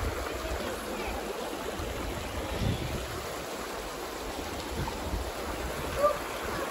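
A nearby waterfall gives off a steady, broadband rush of falling water that fills the whole stretch evenly, with no voices over it.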